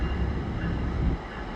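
Steady rumbling roar of an EXO commuter train with Bombardier multi-level coaches at Lucien L'Allier terminal, a loud, continuous rolling noise close by that eases slightly at the end.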